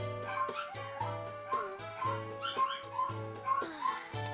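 Several dogs bark and whimper in a home, a steady run of yips and barks repeating roughly every half second, close by and fairly loud, with no one talking over them.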